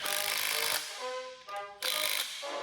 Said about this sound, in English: all the wheels are finger tight, so we need to tighten them up